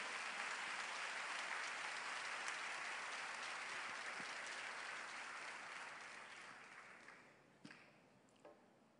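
Sustained audience applause fills a church revival and miracles conference hall, dense and steady for several seconds before thinning out and fading, with a few scattered late claps at the end.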